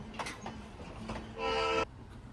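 A short, loud train horn blast sounds amid the low rumble and clatter of a passing train at a railway station.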